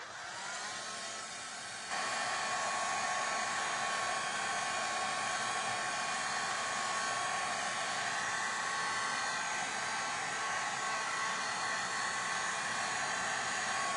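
A hair dryer blowing on thick paint on paper during an advent calendar art session, a loud steady whirring roar that jumps up in strength after a couple of seconds and then holds constant.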